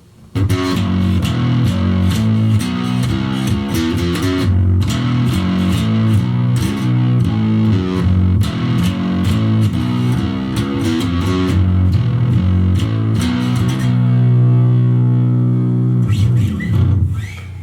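Warmoth Gecko 5 bass played through a rack of effects, a long stretch of plucked, distorted notes and chords, loud and up close with no talking, ending on a held note that cuts off.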